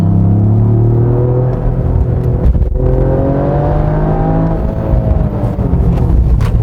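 A Toyota GR Yaris in sport mode accelerates hard on a winding mountain road near a mineral spring, its engine droning loud and close with rising tones as revs climb through the gears.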